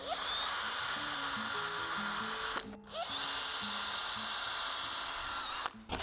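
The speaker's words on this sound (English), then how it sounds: "down here is where I'm going to drill a couple of holes." Power drill boring a couple of holes low on a painted cabinet for small screw hooks, a loud steady high whine in two long runs with a brief stop between them.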